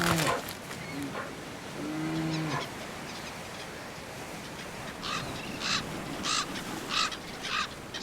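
Several harsh raven calls ring out in a summer Canadian wilderness, spaced in a loose rhythm at moderate distance over a steady outdoor background, with a few lower animal sounds near the start.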